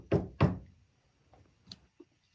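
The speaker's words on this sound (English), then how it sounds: "Maybe knock on one of these wood walls or on that cabinet." Two sharp knocks on a wooden wall or cabinet sound close together and loud, then a few fainter taps and thuds follow in a quiet room, with no talk.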